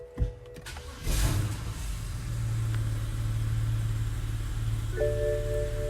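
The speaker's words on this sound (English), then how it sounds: "let me just start my car and we'll see if it's working" A wagon's engine cranks briefly and fires up, then holds a steady, close idle hum for several seconds while a few electronic chimes sound near the end, with no talking.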